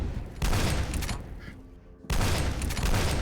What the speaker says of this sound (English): We're having a repeating cannon fight here.